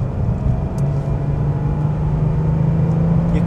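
A 1988 air-cooled Porsche 911 Carrera 3.2 drives steadily, its engine a loud continuous drone heard from inside the car, with gear shifts that blend into the sustained rumble.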